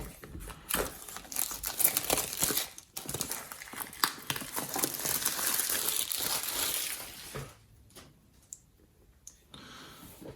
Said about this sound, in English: And then we can just peel off the wrapping here.